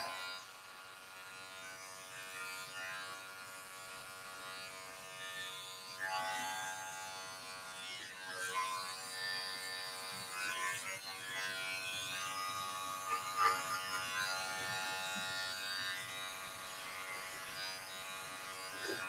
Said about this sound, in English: I'm pulling that section out, allowing my clipper to elongate the hair as I come back